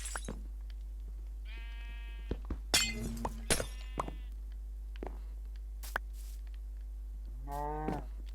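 A Minecraft cow moos in short, clear calls, several spaced lowing sounds over a quiet background with a few soft clicks and taps between them.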